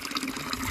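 Water from a mountain spring in a forest, a brief steady rush of trickling, splashing flow heard close by with no voice over it.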